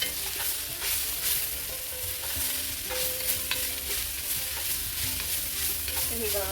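Mushrooms with cumin and adobo seasoning sautéing for a tofu scramble, a steady soft sizzle under repeated scraping stirs of a utensil in the pan, close and fairly quiet.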